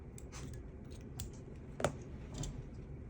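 Scissors trimming excess thread at the hook shank while tying a marabou damselfly nymph fly, several soft close snips with one sharper cut near the middle, quiet and without talk.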